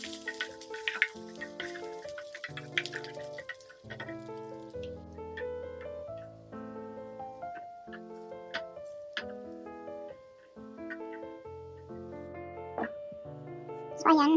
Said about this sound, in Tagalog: dito sa isang pan, magto-toasted tayo dito ng bawang guys. Pero naglagay din ako ng maliliit na hiwa ng luya